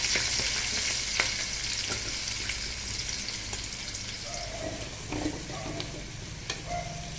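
Cumin, green chilies and onions fry in oil in a pan, a steady close sizzle running throughout with occasional clicks of the spoon stirring.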